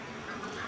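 A female duck gives a brief, fairly faint quack, a single short nasal call close by with no talking over it.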